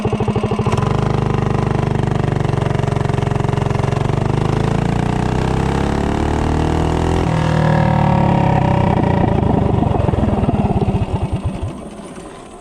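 Small motorcycle engine fitted with a VM22 Mikuni carburetor and short intake manifold accelerates hard from a standstill to 30 mph, revving up through rising pitch, dropping briefly at a shift, then climbing again before easing off, loud and close with no talking.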